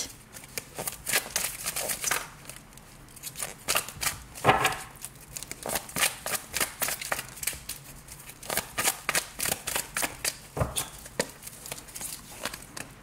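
Tarot deck being shuffled by hand for a new reading, a long run of quick, close riffling and slapping card sounds in uneven bursts, with no one talking.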